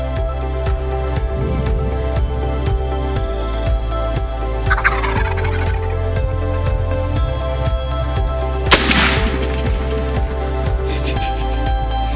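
Wild turkeys gobble during a spring hunt on Iowa public land, amid a dense chorus of birds and a steady low hum, with a few sharp knocks and rustles close by.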